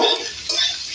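Green peas go into a hot pan of frying cabbage, potatoes and spices, and there is a brief, close burst of sizzling and stirring.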